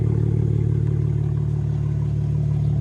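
Exhaust of a BMW G80 M3 Competition with its valves fully open, a steady loud low rumble that holds evenly throughout without any clear rev change.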